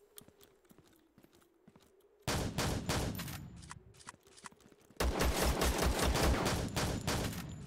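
Gunfire in the video game Zero Sievert: sparse sharp shots at first, then dense rapid bursts of automatic fire that grow louder and nearly continuous toward the end.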